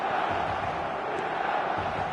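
Steady stadium crowd roar at the San Siro in FC 25, a dense continuous wash of cheering that holds evenly throughout with no distinct calls rising above it.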